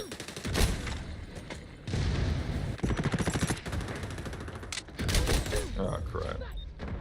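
Rapid bursts of submachine gun fire from a video game, loud and close, coming in several rattling strings with short gaps between them.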